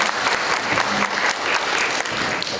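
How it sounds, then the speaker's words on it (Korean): An audience gives steady, dense applause for the two teams after the final of a university debate competition. Continuous close clapping fills the whole stretch with no break. "오늘 수고해준 두 팀에게 다시 한번 박수를 청하면서"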